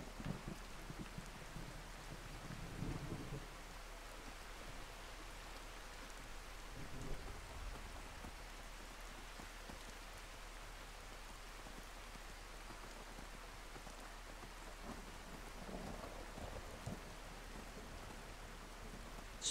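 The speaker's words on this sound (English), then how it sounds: "Pretty heavy rain." Heavy rain pours steadily in the Skyrim video game, a dense constant hiss with several low rolling rumbles of thunder rising and fading in the distance, no voices.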